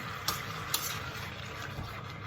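Continuous sizzling and frying with a couple of sharp scraping clicks, like a utensil stirring food in a hot pot, fairly loud and steady.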